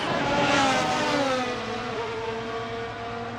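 Formula 1 cars at the 2022 Las Vegas Grand Prix, a Mercedes and a Red Bull, scream past with a high whining engine note that falls in pitch as they pull away, steady and fairly near.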